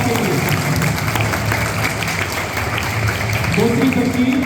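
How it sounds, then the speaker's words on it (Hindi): Audience applause at a national sports prize distribution ceremony for a child who won a national-level gold medal: dense, steady clapping from a crowd that fills the whole stretch, with a voice rising over it near the end. "बहुत जोरदार तालियां सिद्धार्थ के लिए।"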